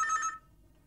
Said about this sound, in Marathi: आधी तो फोन घे.